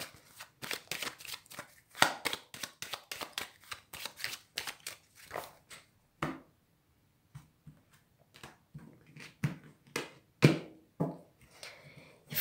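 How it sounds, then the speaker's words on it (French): A deck of Tarot de Marseille cards is shuffled by hand in repeated crisp riffling bursts with brief pauses, close and clear with no talking. "je vais faire une coupe avec le tarot de Marseille pour vous"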